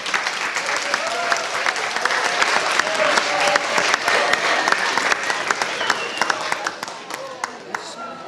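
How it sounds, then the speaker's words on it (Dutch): An audience at a gathering of resuscitation survivors at a school in Heythuysen applauds long and loudly, a thick, sustained wash of clapping with a few scattered voices mixed in that thins slightly toward the end. "En een groot applaus."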